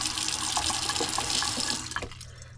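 Water runs steadily from an old kitchen faucet into the sink, a close, continuous splashing hiss that eases and thins near the end.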